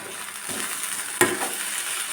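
Onion and grated coconut thoran being mixed in a pan over low heat: a soft, steady sizzle with a faint stir early on and one sharper scrape or knock of the spoon near the end.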